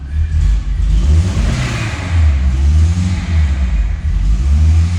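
A Peugeot 309 engine idles and revs loudly up close, a steady low rumble rising and falling through several throttle blips with no pause.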